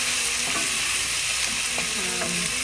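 Cauliflower for gobi masala softens in a pan over medium-high heat with a steady, close sizzle and scattered spoon-scraping strokes, no voices.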